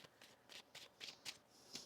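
Tarot cards being shuffled by hand, with a steady run of soft riffling bursts at an even rhythm, close and quiet, with no talking.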